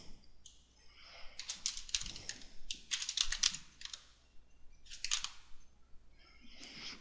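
Names being typed into a Microsoft Word 2010 table on a computer keyboard, with bursts of quick, close key clicks broken by short pauses, and no talking.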